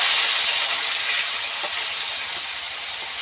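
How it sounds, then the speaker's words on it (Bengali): Fish fry in hot oil with a constant, bright sizzling hiss that fades slightly toward the end. A few faint low knocks sound beneath the sizzle. "এইভাবে সব মাছ একবারে ভেজে নেব।"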